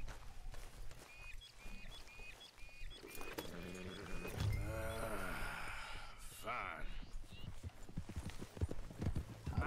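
A snow horse's hooves clip-clop in a Red Dead Redemption 2 game scene, rhythmic steps mixed under game dialogue, music and someone talking over the action.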